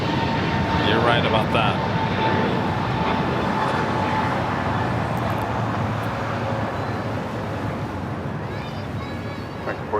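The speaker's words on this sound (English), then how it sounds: "737 about to land coming in from Santa Ana" An Alaska Boeing 737 jet airliner coming in to land at LAX, a loud, steady engine roar filling the clip with a brief remark spoken over it early on.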